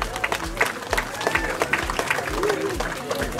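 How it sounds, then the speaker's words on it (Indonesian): Crowd applause at the Basarnas 2023 closing ceremony of a flying adventures event in Kepri, dense clapping with low thumps and some background voices and noise throughout the short stretch. "kita berikan tepuk tangan yang meriah"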